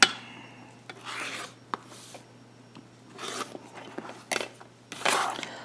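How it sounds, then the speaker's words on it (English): Paper is folded back along lines and trimmed for a quilt-style pattern piece, making intermittent close rustles, rubbing swipes and small crisp taps with quiet gaps between. "Fold back on those lines and trim."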